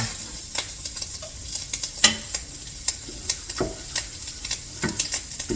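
Sausage being scooped out of a hot pot of gumbo, the heat just switched off: repeated short scraping, stirring and clinking knocks at an irregular rhythm, with a faint sizzle underneath.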